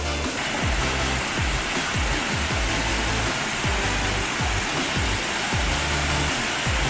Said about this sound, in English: I am just right in front of the Abbey Falls.